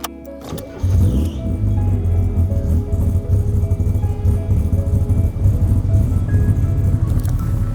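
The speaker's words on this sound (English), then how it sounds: "I'm driving Renault Alpine A110 from 1971." A 1971 Renault Alpine A110 is on the move, its engine droning steadily and loudly from close by after a brief quieter opening, with no speech.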